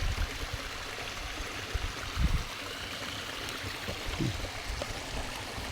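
Steady rushing and splashing of water falling over rock, a continuous close wash of sound with a couple of brief low thumps.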